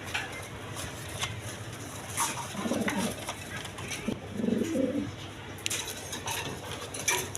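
Red Lahori pigeons give a few soft, low coos close by among background noise, with a faint clink of dishes and a voice talking quietly.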